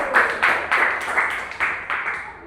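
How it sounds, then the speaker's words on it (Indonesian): Classroom applause for a student group, about seven or eight brisk bursts of clapping from a small crowd of children, fairly close and loud with no talking over it. "Tepuk tangan untuk kelompok 1."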